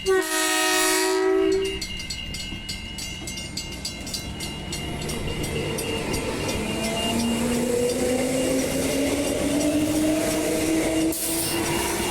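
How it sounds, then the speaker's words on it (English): A train horn blares loudly at the start, then a train rumbles into Oats Street Station with rhythmic clacking wheels and rising motor whine, close by. "Here comes another train."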